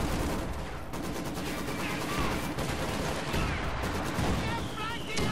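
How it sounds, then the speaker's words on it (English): Artillery firing white phosphorus rounds in a multiplayer war video game produces a dense, continuous volley of booming gunfire and rumbling blasts, loud and sustained, with faint talk beneath. "More white phosphorus being fired."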